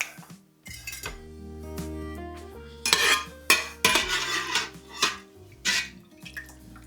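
A strainer spoon clinks and scrapes against a pan while scooping spices out of corned beef cooking liquid, giving a run of sharp metallic knocks and clatters over a steady low hum, with no talking.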